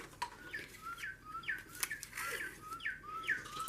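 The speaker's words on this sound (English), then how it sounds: "There's my bird clock. It is the Northern Cardinal Oak clock right now" A Northern Cardinal song from an oak bird clock plays quietly indoors, a series of repeated down-slurred whistled notes in an even rhythm, faint and alone.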